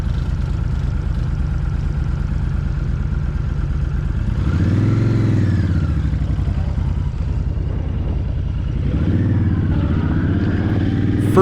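A 2021 Honda Fury fuel-injected cruiser motorcycle engine heard while riding, a loud, steady, close rumble that rises and falls twice as the revs climb through the gears, with no one talking.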